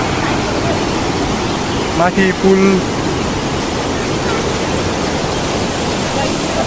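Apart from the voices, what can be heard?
large mountain river rushing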